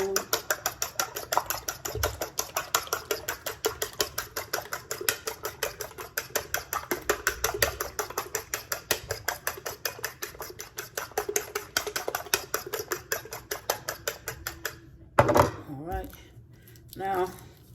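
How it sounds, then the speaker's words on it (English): Eggs whisked in a bowl for a Christmas breakfast make a steady, rapid run of clicking strokes for about fifteen seconds, then stop, followed by a brief clatter and quieter handling. "I'm gonna go ahead on and stir the eggs up"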